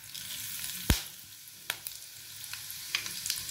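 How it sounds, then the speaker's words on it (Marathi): Cumin and mustard seeds crackle in hot oil for Marathi-style pithla, a steady faint sizzle broken by a few sharp pops, one loud snap near the start and several smaller ones after. "मोहरी चांगल्या तडतडल्या की आपल्याला त्याच्यामध्ये टाकायचा आहे कढीपत्ता।"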